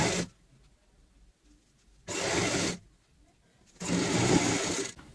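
A sewing machine stitches a fabric pillow cover in two short bursts of fast, whirring needle action separated by quiet pauses, close and moderately loud.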